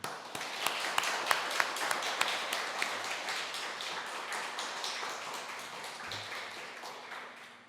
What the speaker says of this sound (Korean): 우리 목사님 나오실 때 큰 박수로 환영해 주십시오